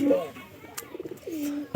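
Soft coos from domestic pigeons repeat a few times at close range in their loft, a low throaty warble with a short burst of clatter near the end.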